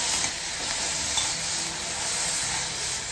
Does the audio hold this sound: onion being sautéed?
yes